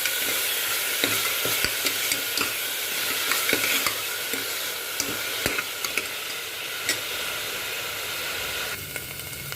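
Onions fry with spices in a pan, giving a steady hiss and sizzle punctuated by repeated sharp clicks and scrapes of a stirring spoon, with no talking.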